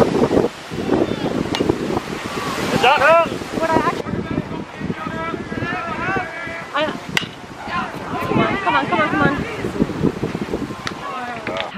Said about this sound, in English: it is so windy out today